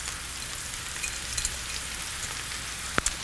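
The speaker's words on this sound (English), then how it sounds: "I'm going to add our sliced mushrooms and that onion and garlic. We're gonna cook this until the onion and garlic is translucent." Sliced mushrooms, onion and garlic sauté in olive oil in a pan, giving a steady, soft hiss of sizzling with a couple of faint clicks near the end.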